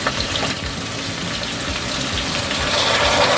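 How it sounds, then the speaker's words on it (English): Vinegar is poured in while cooking Jamaican escovitch sauce for fried red snapper, a steady liquid gush over a faint sizzle that grows slightly louder toward the end, with no talking. "I'm going to add some vinegar"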